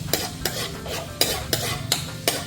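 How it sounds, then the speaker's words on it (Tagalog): Garlic sautéing in a pan with sharp, rhythmic stirring scrapes and clatters roughly every half second over a soft continuous sizzle, close and fairly loud, with no talking. "Teka po muna maluto yung bawang ha."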